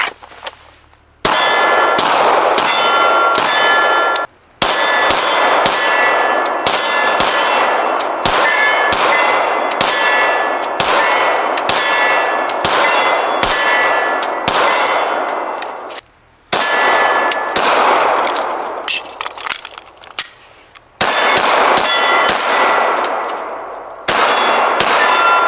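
Sig Sauer P320 M18 pistol fired at steel targets, a steady string of loud sharp shots each followed by a ringing metallic clang, with brief pauses between strings.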